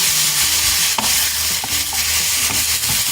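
Chicken strips with garam masala fry in a pan with a loud, steady sizzle, while a utensil stirs and turns them with occasional scrapes and knocks.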